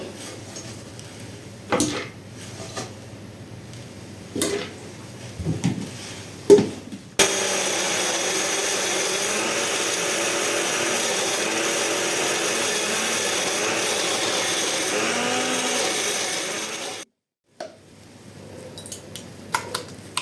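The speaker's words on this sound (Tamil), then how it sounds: "கரட்டை நாங்கள் முதல் அடிச்செடுத்து வந்துடுவோம்" An electric mixer grinding carrots runs loud and steady for about ten seconds, then cuts off abruptly, with clatter and handling sounds before and after.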